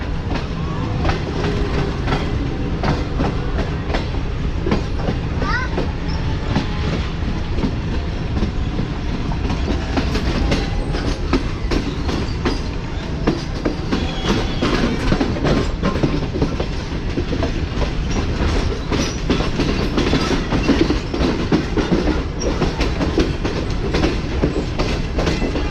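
The Tezgam express rolls toward Wazirabad Junction in Pakistan, its steady loud rumble and rhythmic clickety-clack of wheels over rail joints running continuously throughout.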